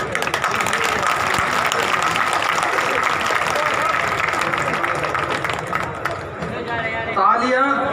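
Dense audience clapping from a large crowd, loud and continuous for several seconds before tapering off, with a voice emerging at the very end.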